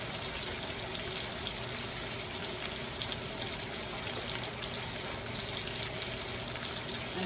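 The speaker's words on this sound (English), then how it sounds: "So I'm going to let those continue to sear" Pork chops sear in a hot pan with a steady, loud, even sizzle that runs unbroken from start to finish, with no talking.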